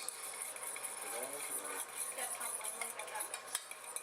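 A spoon scrapes and clinks through a dry mix of garlic powder, oregano, salt and pepper in a bowl while seasoning is prepared for loaded nachos, with soft irregular stirring strokes up close.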